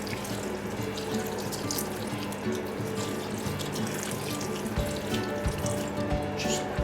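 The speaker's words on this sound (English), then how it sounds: "Then we're going to add 200 ml of water." Water pours steadily into a pot of cabbage rolls in a kitchen, a soft continuous splashing and trickling that stays fairly quiet and close, with no talking.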